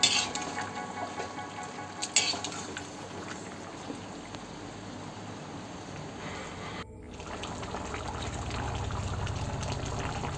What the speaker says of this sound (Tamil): வேக வச்ச கறியை அதில் கொட்டிப்போம்.